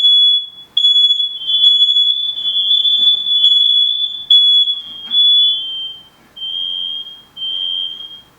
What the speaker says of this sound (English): Whoa! Smoke alarm.